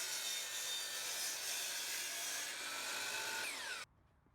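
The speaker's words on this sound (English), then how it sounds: "I'm cutting the 2x4s for the frame around the plywood top. And I always like cutting the ends off 2x4s" A saw cuts through the end of a 2x4 board while a workbench frame is built in a small workshop. It makes a loud, steady, rasping whine for nearly four seconds, then stops abruptly, leaving near silence.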